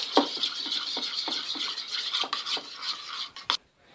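A spoon stirs a thick mix of glue and hand soap for slime, giving a run of soft sticky scraping and squelching strokes in an uneven rhythm, close and quiet, ending abruptly.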